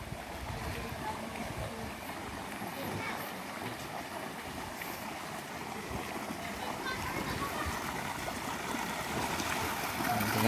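Water flows steadily into a pool at a mountain resort, making a continuous broad rushing wash that swells slightly toward the end, with faint voices in the background.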